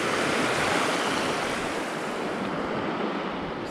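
Shallow river rapids on the Steel River rush past a canoe in steady rain, a dense, constant roar of water close by that stays loud and unbroken throughout.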